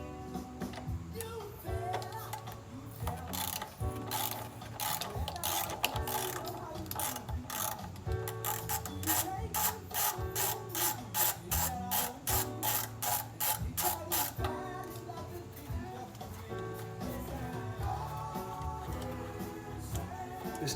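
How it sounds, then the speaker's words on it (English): Rapid clicking ratchet loosening 12 mm bolts while fitting an exhaust to a 2015 Honda CB1000R motorcycle, in bursts of fast ticks with a denser stretch in the middle, close up over a steady background. "these 2 bolts on the front are also 12 millimeters. I'm going to use a drive on this, get a little leverage."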